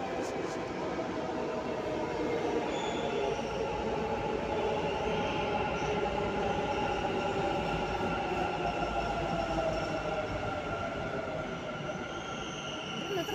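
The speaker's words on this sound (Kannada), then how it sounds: "ಸೊ ಫೈನಲಿ ನಮ್ಮ ಮೆಟ್ರೋ ಬಂತು. ಬನ್ನಿ ಹೋಗೋಣ." A metro train rumbles steadily nearby, a continuous rolling roar with faint wheel squeals, lasting throughout with no talk.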